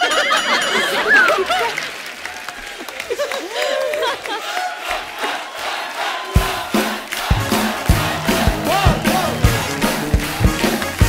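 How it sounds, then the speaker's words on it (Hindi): A studio audience at a comedy talk show laughs and calls out amid voices, then breaks into loud, sustained clapping with a rhythmic pulse for the cricket team. "जोरदार तालियां हमारी क्रिकेट टीम के लिए"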